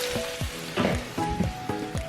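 Water poured into a hot pan of frying meat sets off a crackling sizzle, rising in several short, close bursts over a steady hiss, with no one talking.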